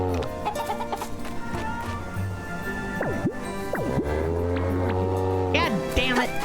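Cartoonish chickens clucking in the farming game Story of Seasons Grand Bazaar, a run of bright pitch-swooping calls over steady background music and low talk.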